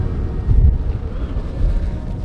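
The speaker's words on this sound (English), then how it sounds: "It's still quite windy though." Low, gusty rumble of wind buffeting the microphone while cycling, swelling and easing unevenly over a couple of seconds.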